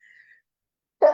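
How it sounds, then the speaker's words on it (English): A single sharp, sneeze-like burst erupts abruptly near the end, loud and close, after a faint thin tone and near silence. "I guess sneeze."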